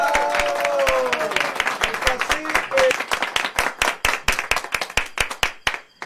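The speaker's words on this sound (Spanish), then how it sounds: "Un aplauso, por favor." An audience at a gathering of friends and family claps for an arriving guest, first a blended applause under a voice, then thinning into loud, distinct rhythmic claps that fade toward the end.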